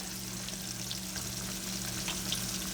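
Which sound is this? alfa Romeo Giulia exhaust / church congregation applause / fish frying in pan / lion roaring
fish frying in pan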